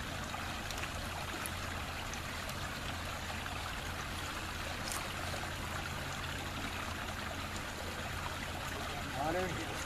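Continuous trickling and gurgling water in a backyard pond as a submersible pond filter is lowered back in, a steady close rush under faint background voices.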